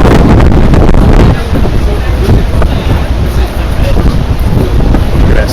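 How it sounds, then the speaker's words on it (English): Wind blowing hard outdoors straight into the microphone, a loud continuous rumbling buffet that eases slightly after the first second and keeps on steadily. "Got a little wind out here."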